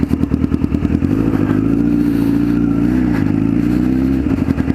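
A Honda Fireblade sports motorcycle, a garage-built bike, revs close and loud, its engine climbing and holding a rough, throbbing pitch before dropping back to a lumpy idle.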